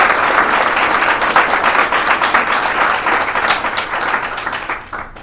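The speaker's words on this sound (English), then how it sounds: "So let's just clap for them just for this." An audience at a startup accelerator demo day claps in a dense, sustained burst of many hands, loud and close, tapering off near the end with no talking over it.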